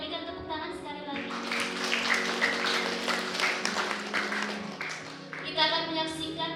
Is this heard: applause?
yes